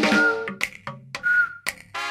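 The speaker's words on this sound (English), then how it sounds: "I whistle and I click." Tuneful whistling, two sustained melodic phrases separated by short percussive clicks and pops, close and clear with no talking.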